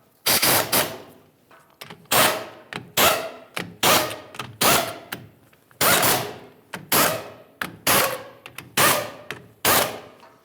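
Ratchet wrench tightening the rear wheel bearing bolts on a 1998-2011 Ford Ranger, a series of loud, close bursts of rapid clicking that repeat at a steady rhythm with short pauses between them.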